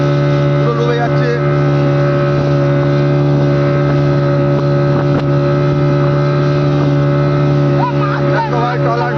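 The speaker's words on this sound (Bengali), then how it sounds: "দেখো ভাই ট্রলার ডুবছে, দেখো ভাই ট্রলার ডুবছে" The engine of a sinking trawler drones loudly and steadily in a low, tonal hum throughout, with agitated voices shouting over it and wind buffeting the microphone.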